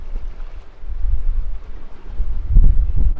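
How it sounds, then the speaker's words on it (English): Gusty wind roars across the microphone with low rumbling surges, strongest near the end, over a steady background of water and catamaran noise while sailing under jib alone. "there's lots of gusts around."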